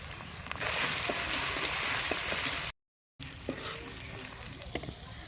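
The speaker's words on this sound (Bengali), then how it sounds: "মশলাটা কষানো হয়ে গেছে" Spices sizzle steadily in a pan with green chillies, salt and a little turmeric for rohu in mustard sauce, a broad continuous fry punctuated by faint scrapes of stirring, broken by a brief silent gap.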